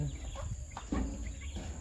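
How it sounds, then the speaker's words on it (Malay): Free-range village chicken chicks cheep and peep close by in short, irregular calls, with faint voices in the background. "Nah ini dia Si anak-anak ayam kampungnya"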